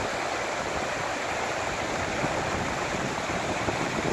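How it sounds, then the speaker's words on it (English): A waterfall along the Kea Point hike near Mt Cook in heavy rain roars as a constant, dense broadband rush of water, steady and unbroken throughout. "look at that stunning waterfall over here"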